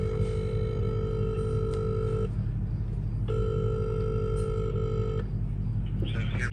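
A telephone line tone plays while calling a KFC call center, two long steady ringback beeps separated by a short pause, clear and close over a constant background hum, ending with a brief click.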